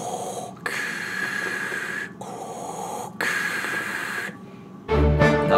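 A voice imitates Darth Vader's heavy mechanical breathing, three long hissing breaths separated by short pauses, close and loud, followed by a louder rough burst at the end.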